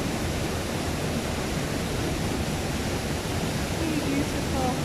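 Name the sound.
flowing water at Castle Forest Lodge, Kenya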